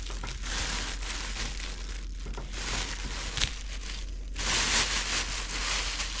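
A plastic bag crinkles and rustles over a copper coin ring as it is handled, close and crisp, with irregular bursts of crackling that rise louder in the final seconds.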